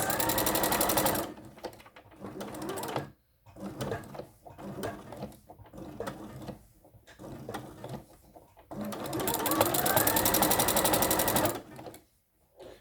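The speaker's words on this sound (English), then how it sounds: "My walking foot is quite loud" A sewing machine fitted with a walking foot stitches a cloth pad, loud rapid mechanical clatter in long bursts with short pauses and stop-start runs while pivoting at corners.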